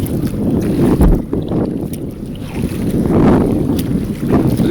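Strong wind buffets the microphone while kayaking in the Florida Keys, loud roaring gusts that swell and ease, with faint water movement beneath.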